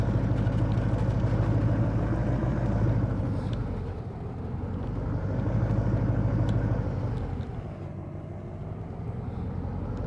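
A skid steer loader's engine in the Farming Simulator 2019 game drones steadily at close range while plowing snow from a driveway, its low hum rising and falling in slow waves as the machine works.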